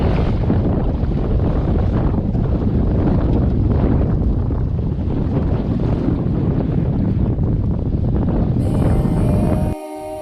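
Strong wind roaring across the microphone aboard a sailboat heading upwind into Fitzhugh Sound on the British Columbia central coast, a loud continuous buffeting rush with water noise beneath, cutting off sharply just before the end.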